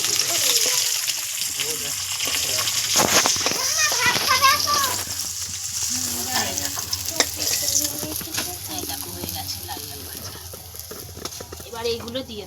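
Pieces of big river fish frying in hot oil, with a dense steady sizzle and sharp crackling splatters of oil throughout, under a person talking close by.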